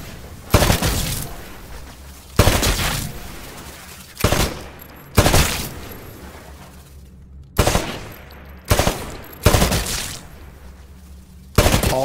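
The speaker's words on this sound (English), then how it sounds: "To take a more calculated shot, you can aim down the sights of your weapon. Destroy all of the targets in the shooting range." Rifle gunfire at a shooting range of targets in the video game Titanfall, loud sharp shots in separate bursts, each ringing out with a decaying tail, roughly seven volleys spaced a second or two apart with no talking.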